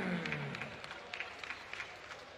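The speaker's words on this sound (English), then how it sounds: "Ladies and gentlemen, once again, your applause is for Matum Gichandra Singh." Audience applause at a boxing event for a fighter being introduced in the ring, a moderate crowd clapping with scattered sharper claps, fairly distant and steady, a voice fading out at the start.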